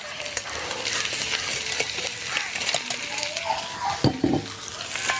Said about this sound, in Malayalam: ഇതിൽ കൂടെയാണ് നമ്മുടെ പരിപ്പൊന്ന് വറുത്തെടുക്കണം കേട്ടോ